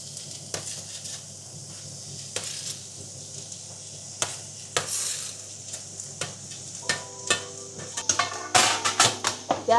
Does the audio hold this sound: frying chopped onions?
yes